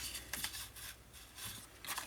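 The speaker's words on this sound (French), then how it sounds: "Je vais couper au complet, comme ceci." Quiet, repeated snips of scissors cutting through paper, several soft crisp strokes in an uneven rhythm, close by.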